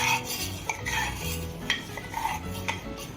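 A spoon spreads yogurt around a bowl in circles, with soft rhythmic stirring clicks and scraping close up, over a faint background hum.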